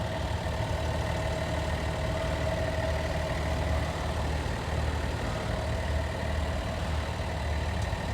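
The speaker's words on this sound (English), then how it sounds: "I want you guys to just listen to how quiet this powertrain is. All we're hearing is injectors firing." A 2025 Ram 1500 RHO truck engine idles steadily up close, a low continuous rumble with a fine ticking texture of injectors firing running evenly throughout.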